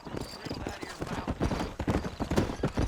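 Horse hooves trotting in the video game Red Dead Redemption, a steady rhythmic clip-clop with a voice talking over it.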